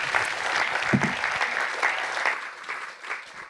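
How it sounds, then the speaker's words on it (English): Workshop audience applauds a panel, a moderate wash of clapping from a sizable crowd that continues evenly and begins to thin toward the end. "Let's give a round of applause."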